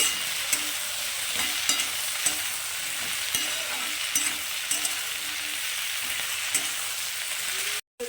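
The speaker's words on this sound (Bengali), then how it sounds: "বেগুনটাও এখন আমি এর সঙ্গে একটু ভেজে নেব" Eggplant frying in a pan with other vegetables for a fish chorchori, a steady close sizzle with faint stirring scrapes and small pops throughout, cutting out abruptly near the end.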